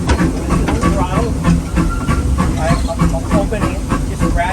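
Steam locomotive E.P. Ripley on the Disneyland Railroad pulling away as its throttle is gradually opened, a steady loud hiss of steam with rhythmic chuffing and mechanical clatter up close in the cab, a voice talking over it.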